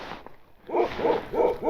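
A dog barks four times in an even rhythm, close by and loud, with a short faint sound just before the barks. Recorded at a river ferry crossing during a motorcycle trip.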